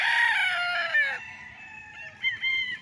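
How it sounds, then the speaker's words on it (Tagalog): A rooster crows loudly and close by at a farm in Liliw, Laguna, its long call breaking off midway, followed by softer clucks from chickens. "At ang daming alagang manok."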